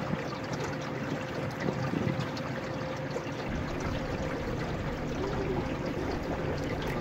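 A small electric mini tugboat runs its propeller at full throttle on water, a steady whirring hum with continuous water wash and churning, close and constant without a break.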